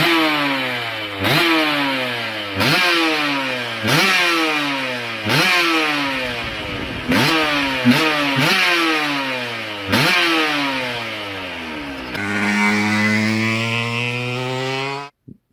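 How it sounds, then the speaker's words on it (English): A British-made Langan 250cc two-stroke motorcycle engine rated at 76 brake horsepower revs hard and close, with repeated sharp rises in pitch and quick drops between gear blips, ending in a sustained high wail before cutting off. "The British made Langan two-stroke, 76 brake horsepower, 250cc, made in this day and age,"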